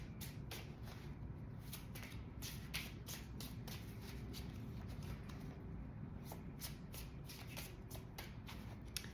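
Tarot cards are shuffled continuously by hand, a steady run of crisp, closely spaced riffling snaps and flutters, close and fairly loud, with no talking.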